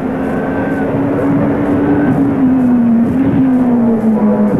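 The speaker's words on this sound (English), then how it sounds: "the whispering Nissan turbo, George Fury at the wheel and taking the green flag on his timed lap" The hushed Nissan turbo race car at the 1983 Bathurst 1000 holds a steady, loud engine drone on its timed lap, its pitch wavering slightly as it runs alone without speech.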